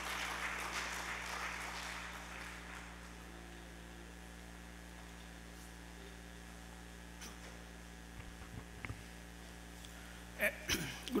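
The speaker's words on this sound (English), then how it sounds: "Please a round of applause for Dr." Faint audience applause for a speaker approaching the podium at a birthday and retirement program fades out within the first few seconds, leaving a low electrical hum and room quiet with a few small knocks.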